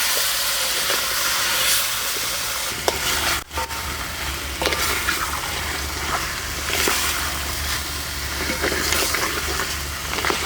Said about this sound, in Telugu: ఈ కారం, ఉప్పు, పసుపు అంతా ముక్కలు పట్టే వరకు కలుపుకుందాం